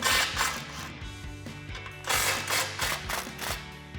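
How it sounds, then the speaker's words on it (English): A ratchet fitted with a 15 mm socket loosens an exhaust band clamp on a 1986-2004 Mustang, giving close, loud bursts of rapid clicking strokes with brief pauses between them. "I'm going to use my 15 socket to loosen those up."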